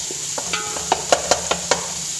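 Garlic and onion get stirred in a hot pan for meatballs, with a bright sizzle of frying beneath several quick scraping strokes of a utensil against the pan, close and clear.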